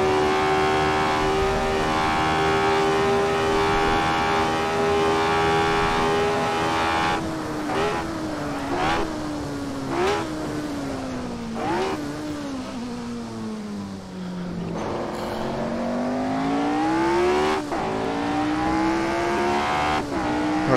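A prototype race car engine in the video game Assetto Corsa screams at high revs, holding a steady whine before a run of sharp upshifts and downshifts with falling and rising pitch, loud and continuous with no talk.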